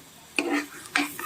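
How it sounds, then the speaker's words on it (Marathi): Masala spices frying in oil in a kadhai, with two quick scraping stirs of a spoon over a soft sizzle, close and brief. "सगळ्यात महत्त्वाचं हेच आहे की मसाले तेलात फ्राय करा"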